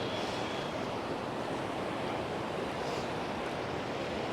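A waterfall rushes and splashes all around as someone stands in the middle of clear flowing water, producing a loud, continuous broadband roar with no pauses.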